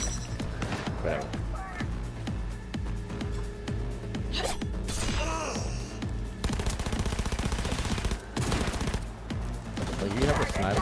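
Rapid gunfire bursts and sharp shots ring out in a Cyberpunk firefight, some near and some more distant, with busy clatter and a voice talking over parts of the action.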